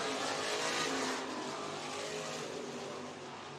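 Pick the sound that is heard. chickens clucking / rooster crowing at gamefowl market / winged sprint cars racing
winged sprint cars racing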